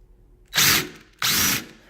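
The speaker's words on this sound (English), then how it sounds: "now I'm going to put it in the other hole saw. So now we're going to do the latch hole" A hole saw cuts a latch hole in a wooden door in two loud, close bursts of drilling, each about half a second long, separated by a short pause.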